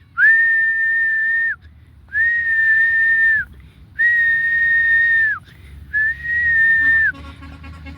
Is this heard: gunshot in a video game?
no